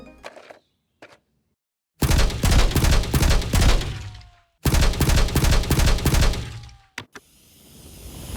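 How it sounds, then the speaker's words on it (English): In Destiny 2, the MIDA Mega-Tool gun fires loud, tightly packed bursts that run continuously for two long stretches. A short silence separates the stretches, a few isolated clicks come before them, and a single sharp shot follows. "the gun shoots the 3 shots simultaneously together in quick succession"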